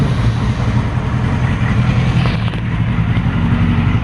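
A custom-rebuilt third-generation Yamaha R6 motorcycle engine running close by, a loud, steady idle with an even low rumble throughout and no voices.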